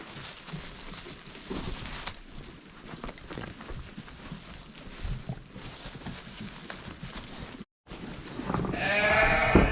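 Goats bleating on a farm pasture while being fed from a bag, several animals calling near and loud over rustling and shuffling, with one very close, strident bleat at the end.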